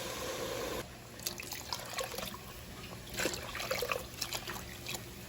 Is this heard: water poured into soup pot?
yes